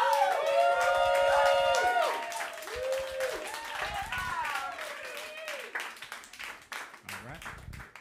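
A comedy roast battle crowd claps and cheers loudly for a contestant, with whoops over dense applause. Warbling tones run through the first half, and the noise thins toward the end.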